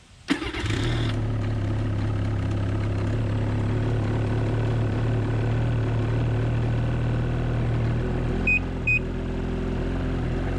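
A 2019 Ski-Doo REV Gen4 MXZ Blizzard 600 R E-TEC snowmobile fires up and settles into a steady, slightly rough idle close by, with two faint short beeps near the end.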